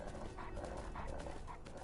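A dog whimpers in Skyrim, a video game, soft repeated whining pulses over a steady low game background, faint and brief.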